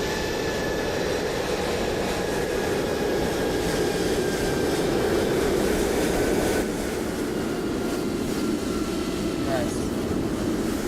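An airplane engine runs outside near a Boeing 737-800, giving a loud, continuous jet roar with a faint high whine.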